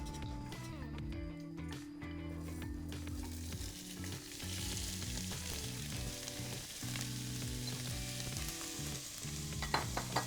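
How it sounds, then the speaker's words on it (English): Vegetables fry in hot oil in a pot, making a loud, steady sizzle with a crackling texture throughout and a few light clatters near the end. "So my oil has started to heat up. What I'm going to do is lower down all of these vegetables"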